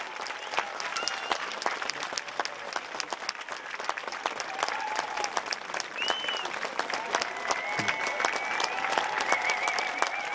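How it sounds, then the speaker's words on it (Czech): An audience claps warmly after a folk performance of the Czech Suite, dense sustained applause filling the hall with scattered voices and cheers mixed in. "Tleskejte, tleskejte ještě, zaslouží si to naše ženy."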